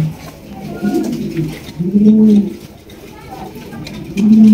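Fancy pigeons coo close by in repeated low, throaty rolling calls, several bursts over a few seconds.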